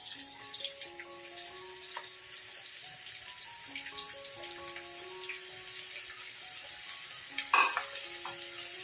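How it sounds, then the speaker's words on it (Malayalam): Small onions frying in hot coconut oil for a Kerala onion curry, a steady soft sizzle under background music, with a brief clatter near the end. "അപ്പോൾ വെളിച്ചെണ്ണ ഒന്ന് ചൂടായതിന് ശേഷം നമുക്ക് ചെറിയ ഉള്ളി ചേർത്ത് കൊടുക്കാം."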